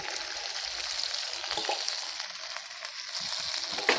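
A paste of coconut, sesame, cumin and cardamom fries in oil with a steady, moderately loud sizzle and light stirring scrapes, close and continuous.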